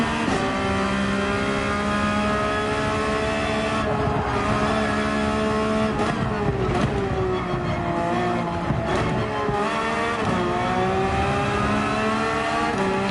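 A Porsche 911 race car in Gran Turismo 7 laps Monza with a loud, steady engine note that climbs and drops through gear changes and revs, heard close and alone for around thirteen seconds.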